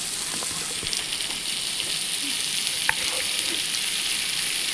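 Sliced onions with a pinch of turmeric fry in a pan, a dense, close, continuous sizzle with occasional light stirring scrapes and no voices.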